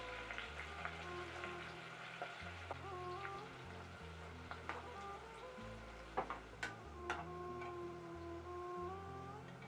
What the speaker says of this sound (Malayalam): നമുക്ക് ഡീപ്പ് ഫ്രൈന് ആവശ്യമുള്ള എണ്ണ ചൂടാക്കി നമുക്കത് വറുത്ത് കോരി എടുക്കാം